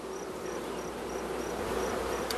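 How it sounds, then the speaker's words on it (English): Honey bees fanning their wings inside a hive make a steady, even buzzing hum that fills the whole stretch without a break, with faint high chirps pulsing regularly above it. "And the bees will go over on top of it and fan their wings to evaporate the water."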